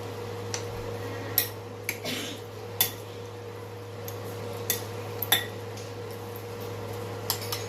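Spoon clinking against a pan while beef and broccoli are mixed, a series of sharp metallic taps spaced irregularly over a steady low kitchen hum.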